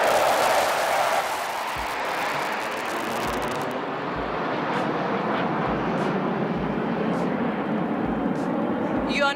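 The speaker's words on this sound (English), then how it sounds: "You are now about to witness a low-level aerobatic display by the Sukhoi Su-30MKI" A Sukhoi Su-30MKI fighter jet roars over a beachfront air show, a broad loud engine rumble that holds steady throughout while an announcer speaks over the public address.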